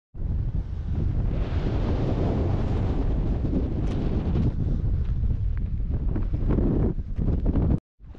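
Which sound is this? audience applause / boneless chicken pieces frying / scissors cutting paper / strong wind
strong wind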